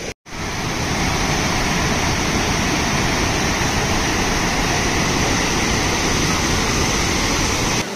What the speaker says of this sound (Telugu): కాంతాపారా వాటర్ ఫాల్